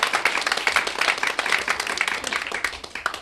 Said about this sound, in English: Go ahead, you can applaud again.